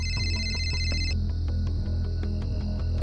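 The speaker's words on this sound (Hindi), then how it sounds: "फोन बजने की आवाज।" A phone rings with a repeated electronic tone over a steady low hum and faint musical ambience, loud and continuous for about three seconds with no talking.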